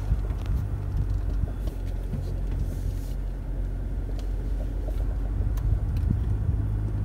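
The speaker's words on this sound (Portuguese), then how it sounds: "Agora a gente vai sair e vai andar com o carro para vocês entenderem um pouquinho melhor." A hybrid car drives off while its combustion engine runs to charge the battery, giving a steady low engine rumble and road noise at constant level throughout, with no talk.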